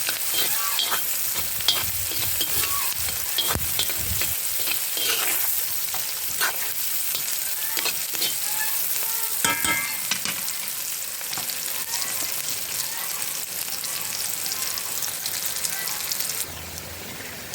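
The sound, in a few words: onion sweating in a frying pan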